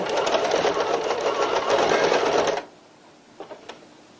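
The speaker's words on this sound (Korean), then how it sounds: "중심선에서 박음질 하시면 됩니다." A sewing machine runs in a fast, continuous rattling burst while stitching a tote bag strap along the center line. After about two and a half seconds it stops abruptly, followed by a few soft clicks.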